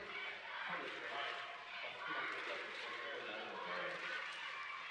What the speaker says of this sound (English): Calling out Nippon, Japan call, giving energy to players of Japan.